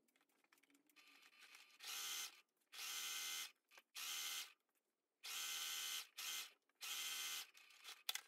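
A sewing machine stitches along a fabric seam in short mechanical bursts, about six whirring runs separated by brief silences, close and fairly quiet.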